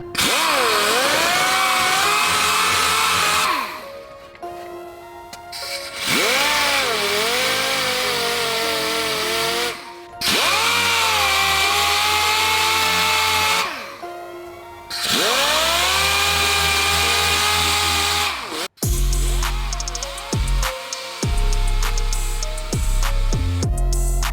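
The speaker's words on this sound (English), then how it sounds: "I'm gonna start sanding." A dual-action sander works the body of a widebody Subaru STI hatchback, whirring loudly and close in several long bursts with brief pauses, its pitch dipping and rising as pressure on the panel changes.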